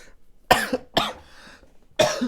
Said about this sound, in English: I had a hiccup and a cough at the same time.